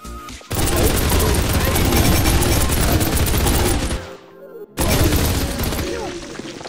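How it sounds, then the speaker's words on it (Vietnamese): Rapid automatic fire from a four-barrel gun in the block-building video game Mini World, loud dense bursts with a brief pause before the barrage resumes, a voice faintly under it. "với khẩu súng bốn nòng mà hình như này nó bắn"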